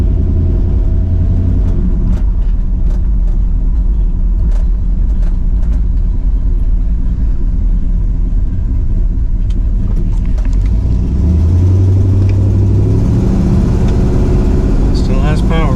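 Pontiac LeMans fitted with a new fuel pressure regulator driving on the road, a loud, close engine rumble with steady low drone and a rise in revs near the end, under cabin noise.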